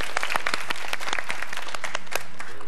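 Audience applause rewarding a correct answer on a school quiz show, a dense steady patter of many hands clapping close by for the whole stretch, with no talk over it.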